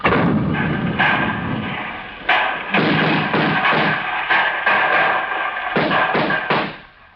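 Heavy booming thuds of cannon fire from a radio drama adaptation of Les Misérables, a series of loud, closely spaced blasts that fade out at the end.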